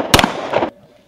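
A rifle fires at a Marine Corps firing range: a sharp, loud crack followed by a second burst a moment later, then quick fade to near silence.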